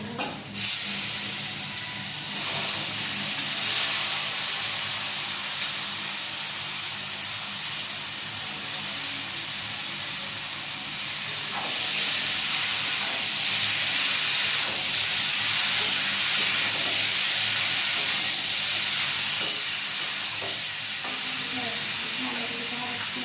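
Shredded cabbage fries in a pan with a constant loud hissing sizzle, stirred now and then with faint scraping strokes, close and continuous with no speech.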